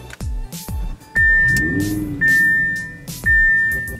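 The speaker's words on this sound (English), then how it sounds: "let's turn the engine on" An Audi R8 engine cranks and roars to life with a deep revving surge, while a high electronic chime rings repeatedly over it.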